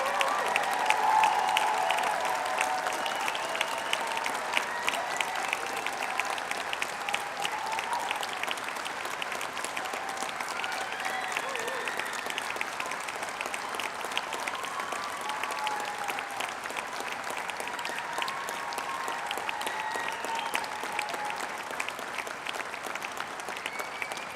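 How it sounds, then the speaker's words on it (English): Sustained applause from an auditorium audience at a Brighton degree ceremony, honouring graduates. Dense, steady clapping fills the whole stretch, loudest at the start, with faint cheering mixed in. "for everyone here in the auditorium to give them a huge round of applause for their fantastic achievement today"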